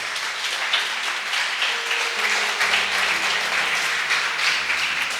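A church congregation claps at a Sunday evening service, a sustained, even burst of applause filling the room from start to finish with little else heard.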